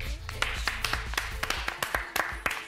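A small group claps in a loose, uneven rhythm of distinct sharp hand claps, moderately quiet, with a faint voice in the background.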